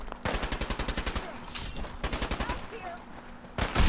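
Rapid bursts of gunfire from Fallout 4, loud and close, firing in quick rhythmic volleys with brief pauses between strings of shots, then a final burst near the end.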